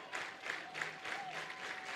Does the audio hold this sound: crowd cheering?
yes